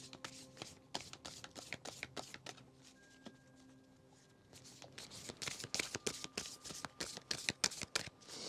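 A moonology oracle card deck is shuffled by hand, a quiet close series of crisp riffling flicks and taps that start sparse and turn into a denser, louder run of rapid snaps.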